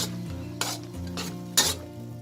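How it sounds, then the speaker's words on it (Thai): Tomato chili paste with minced pork simmers in a pan, a low bubbling hum broken by a few brief scraping stirs of a spoon, close and fairly quiet. "เดี๋ยวเราจะเคี่ยวค่ะจนกว่าเขา งวดแห้งกว่านี้สักเล็กน้อยค่ะ"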